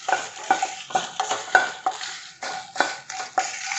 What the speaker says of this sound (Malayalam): ഇനി 10 മുളക് എടുത്തിട്ടുണ്ട്. അതിനെ നല്ലപോലെ ഒന്ന് ചൂടാക്കി എടുക്കാം. അതിൻ്റെ കൂടെ കരിവേപ്പിലയും ഇടാം.